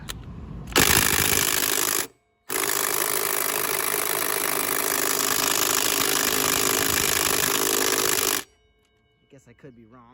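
A power tool whines loudly while working the axle nut on the front wheel of a 2001 Suzuki Marauder VZ800, running in two long bursts separated by a short pause, then cutting out.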